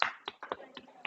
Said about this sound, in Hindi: गुड, ताली बजाओ इसके लिए।